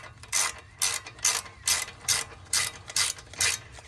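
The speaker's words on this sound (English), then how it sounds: "You're going to use an 18 millimeter socket and ratchet and put it over here and just begin to tighten it up." An 18 mm socket on a ratchet tightens brake caliper bracket bolts on a Ford Crown Victoria, clicking in eight quick, evenly spaced rasping strokes close by.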